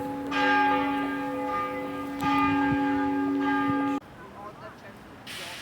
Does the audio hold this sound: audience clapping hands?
no